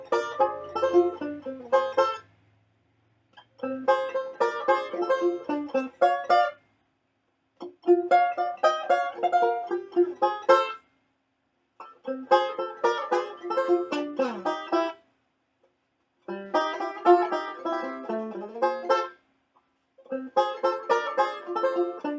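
Banjo boogie-woogie lick played alone in repeated phrases, each starting after a short pause, bright plucked notes with clear gaps between runs.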